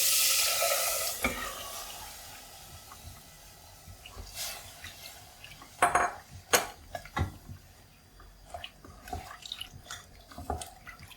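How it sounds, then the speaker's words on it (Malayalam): Washed chickpeas tip into a hot pan for kadala curry and get mixed, giving a scatter of sharp clatters, stirring scrapes and soft sizzle, with a brighter hiss early on and busier knocks toward the end. "ഇനി നമ്മൾ എടുത്തു വെച്ചിരിക്കുന്ന കടല ചേർത്ത് കൊടുക്കാം"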